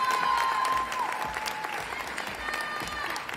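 Applause at a university nursing graduation ceremony: a crowd claps steadily and densely, at moderate loudness and some distance, for several seconds. A voice speaks faintly underneath at the start.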